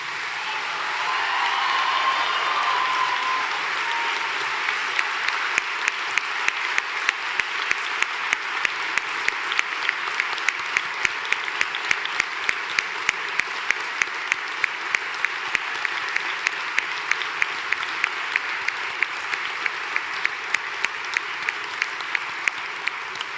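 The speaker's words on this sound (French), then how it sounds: "je vous invite à vous lever et à applaudir chaleureusement vos collègues et amis." Graduates and guests at a university graduation ceremony give sustained applause that fills the hall. It stays steady for over twenty seconds, and a few sharp claps stand out near the front.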